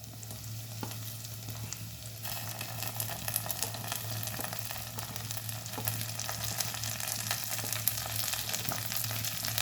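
Onion, carrots, beans and peas fry together in oil for wheat vermicelli upma, a continuous close sizzle with occasional stirring scrapes, fairly even and unbroken, with no talking.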